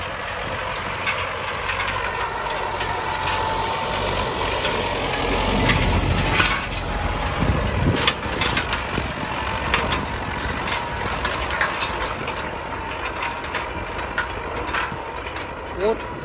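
A YuMZ tractor pulls a Hermes floating-frame harrow across a grassy field, a steady, loud engine drone mixed with the rumble and crunch of the tines working the soil.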